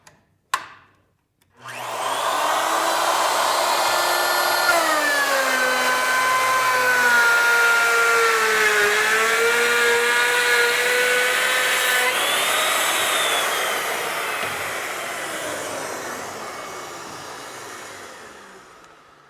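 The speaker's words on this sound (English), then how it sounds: "Going to plunge the router up above the work, go all the way through, relax it away from the work" After a sharp click, a router on a panel saw and router combo machine whines loudly and steadily as it plunges through wood to cut a through dado, its pitch dipping and shifting under load before easing near the end.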